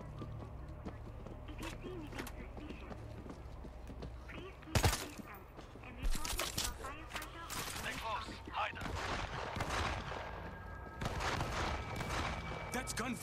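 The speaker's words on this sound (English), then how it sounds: "That's gunfire from the bus." Bursts of gunfire crack over a dense background of noise in World War Z: Aftermath, with one sharp shot from a bus standing out and more scattered volleys following.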